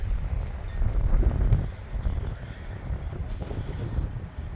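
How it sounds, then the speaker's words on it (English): Gale-force wind buffeting outdoors near a parliament building, a loud continuous rumble with gusty surges and microphone wind noise, no talk. "It's blowing a gale."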